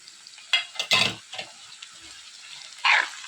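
Amaranth leaves and onions are stir-fried in a pan, giving soft sizzling with a few scraping stirs and clatters in short bursts, fairly close and without talk.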